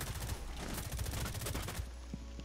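Rapid bursts of automatic gunfire crackle in Rainbow Six Siege on the Coastline map, dense overlapping shots rattling for about two seconds before cutting off, then a quieter tail.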